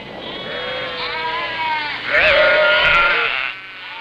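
Sheep bleat repeatedly on a remote wool-producing island off Chile, several wavering calls overlapping at close to moderate distance, growing louder near the middle.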